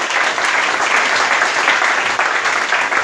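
Steady, loud applause from a church congregation acclaiming the Lord during a worship service, a dense continuous wash of clapping that holds evenly for about three seconds with no voices above it.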